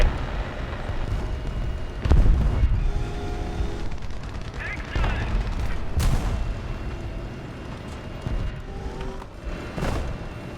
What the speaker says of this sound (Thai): ตรงนี้มีรถถังยิงปืนกลออกมา